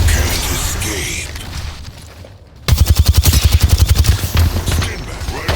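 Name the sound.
gunfire in the video game Apex Legends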